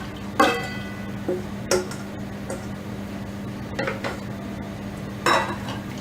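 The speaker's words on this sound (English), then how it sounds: "Now we are going to add this steamed vegetables." Steamed vegetables go into a pav bhaji pan with scattered metallic clanks and scrapes of a spoon against the pan, several distinct knocks over a low steady hum.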